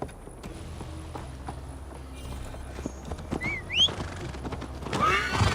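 A horse in the game Assassin's Creed Valhalla clip-clops steadily at close range, then lets out a rising, wavering neigh; a second, louder whinny and a burst of hoof noise follow at the end.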